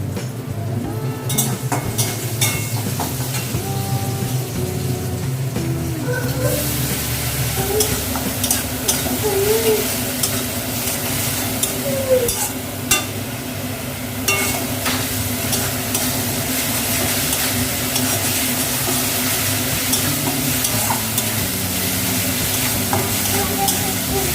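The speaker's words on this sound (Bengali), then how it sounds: "পেঁয়াজ রসুন আর আদার পেস্ট করে সেটা এবার আমি কড়াইয়ে দিয়ে দেবো" A paste of onion, garlic and ginger fries in a kadai with a loud, steady sizzle that runs nonstop, broken by frequent scrapes and clinks of stirring against the pan.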